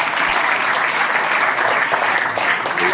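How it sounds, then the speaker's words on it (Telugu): Students in a high school meditation class clap together, a loud, dense burst of applause that fills the room for about three seconds. "Clap, big clap."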